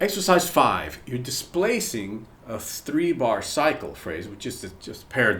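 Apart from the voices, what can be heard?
No distinct noise like a dog, phone or traffic.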